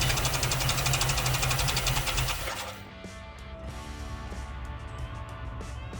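A car engine idles steadily right after its first start, a fairly quiet, even mechanical hum with a light ticking that follows a louder whirring burst of cranking.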